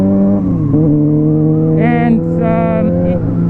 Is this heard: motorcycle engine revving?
yes